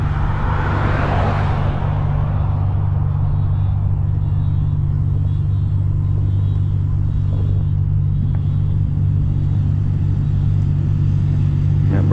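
Car engine rumbling at a gas station takeover, an 800HP Shelby GT350 idling with a steady deep low drone throughout, a brief rev swelling near the start, loud and close with crowd noise faintly around.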